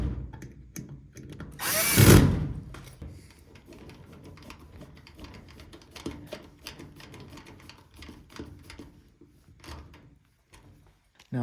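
During apartment maintenance, a power tool gives one loud, close whir of about a second while tightening nuts, followed by scattered faint clicks and handling taps.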